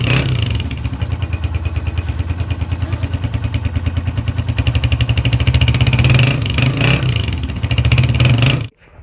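A 2023 Simple 125 motorcycle engine self-starts and runs loud and close, revving steadily with rhythmic mechanical clatter, then cuts off abruptly near the end.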